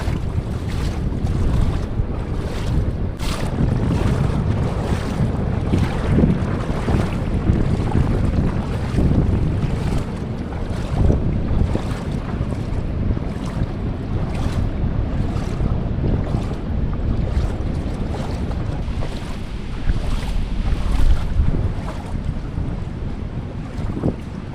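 Strong waves slap against a small boat near the rock formations of Biri Island, heavy rushing water and repeated hull thumps under loud wind buffeting the microphone, no talking.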